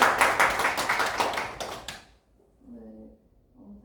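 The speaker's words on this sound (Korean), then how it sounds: "저는 박수로 한번 맞아주세요" A small audience at an art academy lecture claps briskly for about two seconds to welcome an artist, then it stops abruptly and a voice speaks briefly.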